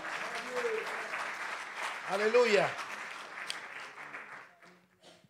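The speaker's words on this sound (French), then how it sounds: "Aplaude su grandeza esta noche." Sustained applause from a church congregation fills the clip while a preacher calls out over it, then the clapping fades toward the end.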